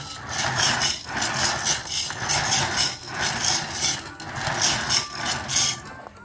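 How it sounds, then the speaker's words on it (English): A Lionel Rio Grande 8602 toy train tender rattles and rasps along the track in close, steady bursts, the gritty clatter pulsing roughly once per second with no voices over it. "But the tender does. It makes a rattling sound."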